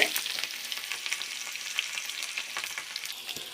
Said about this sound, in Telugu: ఫస్ట్ మనం ఆవాలు వేసుకుంటే బాగా ఏడుతాయి ఇప్పుడు తెలియకపోయేది ఎర్రగడ్డలు అన్నీ వేసినాక